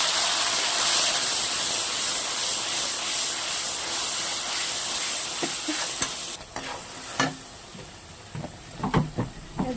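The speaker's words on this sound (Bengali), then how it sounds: "দিয়ে দেব আদা আর কাঁচা লঙ্কা পেস্টটা তেলের মধ্যে।" Ginger and green chilli paste dropped into hot oil after frying five-spice seeds, a dense loud sizzle and hiss that then softens into crackling and stirring scrapes.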